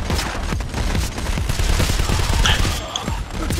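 Dense, continuous gunfire from the video game Payday: The Heist, overlapping shots forming a loud sustained barrage of rapid cracks with no letup.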